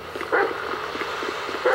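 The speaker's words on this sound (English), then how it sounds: "This right here is one sick, nasty-ass motherfucking dog." Growling dog in the video game GTA 5, a repeated low snarling and short barks close by over steady game background ambience.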